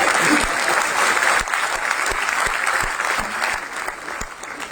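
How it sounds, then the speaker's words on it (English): Dense clapping fills a packed lecture hall at Jawaharlal Nehru University before a science talk, a steady wash of many hands with a few sharper claps standing out, easing slightly partway through. "I don't know why you're clapping"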